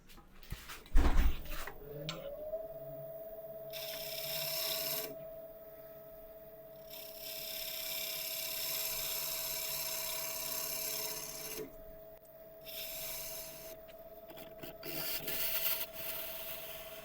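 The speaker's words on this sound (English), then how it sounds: "I'll sand it first, obviously," A turned wooden piece from Scotland Yard's famous tree spins on a lathe, its steady motor hum running throughout while sanding rubs against it in long passes, close and moderately loud, with no talk.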